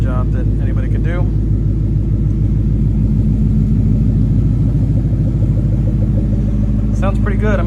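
2015-17 Ford Mustang with an MBRP Race cat-back exhaust idling, a loud deep throbbing rumble held steady throughout, with someone talking over it at the start and end.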